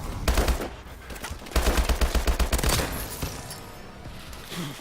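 Call of Duty: Advanced Warfare gunfire crackles in rapid automatic bursts, a short volley followed by a longer rattling string of shots, loud and close, then fading into softer background noise.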